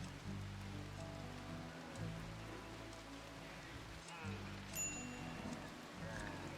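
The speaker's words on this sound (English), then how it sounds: "When's the psychic rain going to end?" Psychic rain pattering steadily in the video game Rimworld, a constant wash of drops under low game music tones, with someone talking over it at times.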